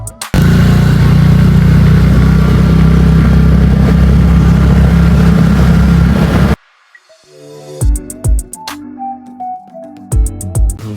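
A motorbike engine runs loud and close for about six seconds, then cuts off abruptly. Quieter clicks and clanks follow as the bike is parked at home.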